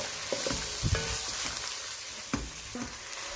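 Chopped onions frying in a pan for aloo keema, with soft sizzling under a few spoon stirs and scrapes, close and steady, no talking.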